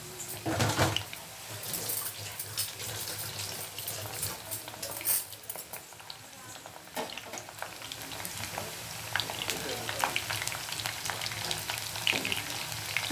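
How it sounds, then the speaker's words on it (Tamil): Corn kernels crackle and sizzle in hot oil, a busy frying hiss with sharp pops and occasional stirring scrapes, fairly close and continuous throughout. "உங்கள் பேன் வந்து எந்த அளவுக்கு பிடிக்குமோ அந்தளவுக்கு கொஞ்சம் கொஞ்சமாக சேர்த்து நம்ம பொறிச்சு எடுத்துக்கலாம்"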